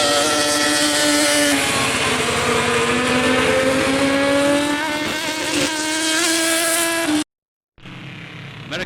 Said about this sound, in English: America lifts the curtain on a new sport, midget auto racing on a banked board track.